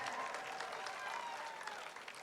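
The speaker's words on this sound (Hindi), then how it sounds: "ताली बजाओ" Audience at a Kawardha comedy poetry gathering clapping, a continuous, fairly faint patter of many hands lasting a couple of seconds at an even level.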